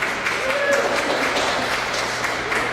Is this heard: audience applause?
yes